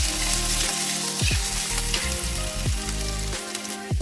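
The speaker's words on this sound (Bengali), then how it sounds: "এবারে আদা রসুনটাকে ভালো করে একটু নাড়িয়ে নেবো" Chopped ginger and garlic crackle loudly in hot oil, a dense, close sizzle with a few scraping strokes of a spatula stirring the pan, and no voices.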